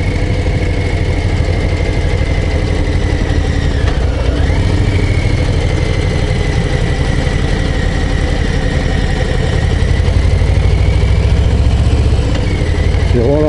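A Harley-Davidson Low Rider ST motorcycle engine running steadily at low revs, a continuous loud throaty rumble with an even pulse, heard close up from the rider's position on a mountain road.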